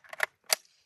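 Two sharp AK-47 shots firing 7.62x39 rounds at a body armor plate during a torture test, the reports separated by a short pause and sounding somewhat distant and thin.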